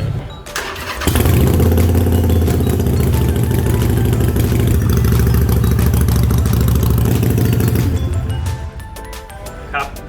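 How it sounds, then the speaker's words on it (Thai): A 2015 Harley-Davidson Sportster cranks and fires up, then settles into a loud, steady, rumbling idle through its exhaust at close range, running somewhat high before the revs drop near the end. "ก่อนอื่นผมจะลองสตาร์ทเครื่องยนต์ดูว่า สภาพตอนนี้ก่อนการปรับจูนเนี่ยเสียง ท่อไอเสียและเสียงเครื่องยนต์เนี่ย จะมีลักษณะอย่างไร"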